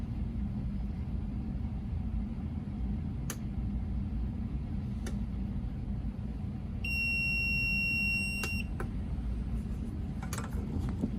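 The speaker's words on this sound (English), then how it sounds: "When the timer goes off" Sublimation mug press timer goes off with a steady high electronic beep lasting a couple of seconds, heard over a constant low rumbling hum with a few faint clicks around it.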